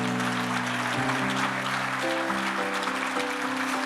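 A church congregation at a Sunday service applauds steadily throughout, a dense wash of clapping laid over sustained keyboard chords that shift a few times.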